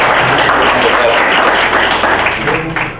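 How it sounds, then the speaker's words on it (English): Steady applause from an audience, dense clapping throughout with a voice or two underneath, tapering slightly at the end. "I would love for y'all to give her a round of applause."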